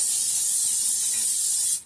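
One long, steady spray from a spray bottle hisses close by onto bagel dough for nearly two seconds, then cuts off abruptly.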